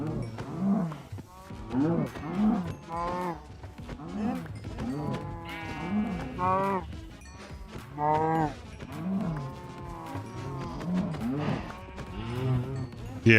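A herd of Minecraft cows moos repeatedly over several seconds, overlapping drawn-out calls at close range, some higher and more strained, with no voices present.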